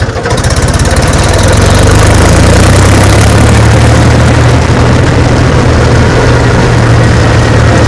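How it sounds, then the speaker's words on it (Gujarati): A tractor engine runs in a Gujarat village farmyard, producing a loud, close, steady low diesel throb that fills the whole stretch without a break. "ટ્રેક્ટર લઈ લીધું આપણે."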